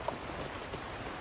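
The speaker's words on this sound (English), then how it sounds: "it hasn't stopped fucking raining" Heavy rain falls steadily at a fishing lake, a dense continuous hiss of drops with no voices present.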